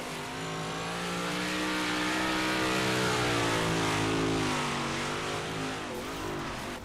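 Race cars lapping a dirt track at Port Royal in iRacing, a loud, sustained engine howl that rises and swells smoothly through acceleration, alone without talk.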